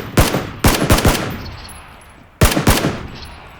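Gunfire in the battle game PUBG: loud, sharp shots in two bursts, each a rapid cluster of cracks with echoing tails, a short lull between them.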